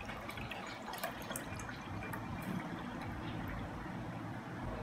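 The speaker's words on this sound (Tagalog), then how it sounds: "Maglagay tayo ng tubig sa baso." Water poured from near by into a drinking glass, a soft continuous trickling and splashing that runs steadily for a few seconds at low volume with no talk over it.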